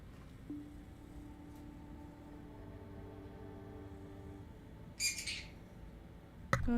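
Birds chirping near a home where yarn is being naturally dyed, with a brief burst of bright chirps midway and another sharp call at the end over a quiet, steady background hum.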